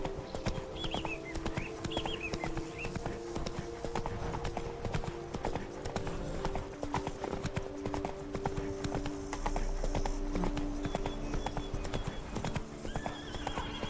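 A horse gallops in The Witcher 3: Blood and Wine video game, with continuous rapid hoofbeats and a neigh, loud and steady against the game's background sound.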